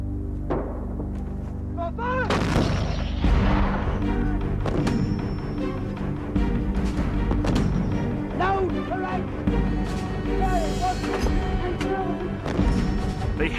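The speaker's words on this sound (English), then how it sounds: "hammered the remaining enemy positions in a final all-out bombardment" Artillery pounds enemy positions during the 1982 Falklands War battle for Stanley, with heavy booming thuds and crashes arriving irregularly over a dense, layered background of other sound.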